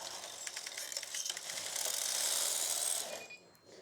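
A knitting machine carriage slides across the needle bed and back, set to slip some stitches, giving a continuous rattling mechanical clatter that swells to a steady whir and then stops, with no talk.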